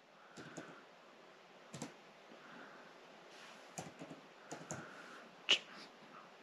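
Sparse taps on an iPad on-screen keyboard while a folder name is entered, soft scattered clicks in small clusters with quiet gaps, faint and close.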